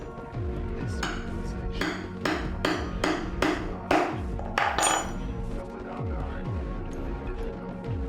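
A metal pricking iron is struck with a hammer to punch stitch holes in leatherwork, giving about seven sharp, ringing blows in a steady rhythm under faint background hum.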